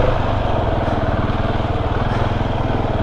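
An enduro motorcycle, a KTM 701 Enduro or Honda CRF300L Rally, is ridden hard over whooped-out trail, its single-cylinder engine a loud, close, continuous drone with fast pulsing.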